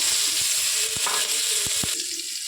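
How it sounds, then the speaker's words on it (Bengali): Chopped onion frying in hot oil with cinnamon, cardamom and cloves, a close, steady sizzle broken by a few sharp spatula knocks and scrapes against the pan. "এই তেলেই দারচিনি, এলাচ, লবঙ্গ দিয়ে দেবো ফোড়নে। দিয়ে দেবো পেঁয়াজ কুচি।"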